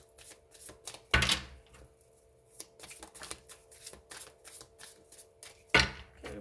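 Tarot cards being shuffled by hand, two sharp riffles standing out from a string of quieter light taps and card slides, close and otherwise quiet.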